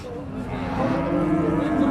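Cattle lowing at Sharatnagar livestock market near Baral Bridge railway station in Bhangura, Pabna, a Saturday cattle market; a steady, sustained moo with a crowd murmur underneath, fairly close and continuous.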